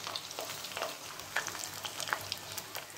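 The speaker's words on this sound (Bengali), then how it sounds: "এই ধারগুলো আমি একটু সুন্দর করে ভেজে নিচ্ছি" Paneer pieces shallow-frying in a pan make a soft, continuous sizzle with scattered light spits and crackles, fairly quiet and close, with no voices over it.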